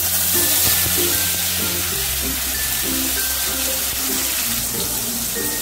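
Tomato hits hot oil that already holds fried whole spices and cumin, giving a loud, continuous hiss and sizzle that stays steady throughout with a low background hum.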